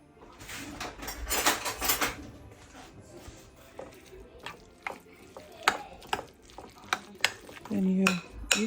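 A spoon stirring cooked sushi ingredients in a pot, with repeated close scrapes and clinks against the side coming in uneven strokes, and faint voices in the background.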